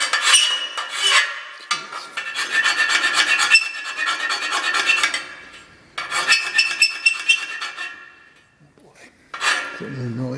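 A thread tap retaps holes in metal, giving a rhythmic rasping, squeaking scrape in repeated strokes with brief pauses, close and fairly loud, alone.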